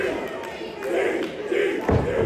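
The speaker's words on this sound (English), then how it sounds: "The crowd chanting for the DDT." A wrestling crowd at an indoor pro wrestling show in Port St. Lucie chants for a DDT, a loud collective roar with rhythmic shouted swells and a thud near the end.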